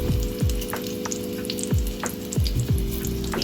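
Bratwurst frying in a pan, a steady close sizzle with repeated soft knocks and clicks as the sausages are moved and turned, with no talking.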